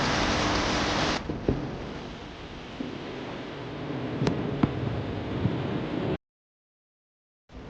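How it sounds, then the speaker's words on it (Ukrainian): Heavy midsummer downpour outdoors at a garage, a steady loud broadband hiss of rain with a few sharp drips or knocks, cutting off abruptly near the end. "По закону жанра, посеред літа почався найбільший дощ, який я мабуть бачив"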